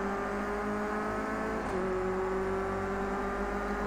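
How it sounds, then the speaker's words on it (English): Small race cars in the Project Cars 2 racing game rev with a steady, loud engine whine that holds throughout, with a brief shift in pitch partway through and no talking over it. "Sound awesome, the little cars."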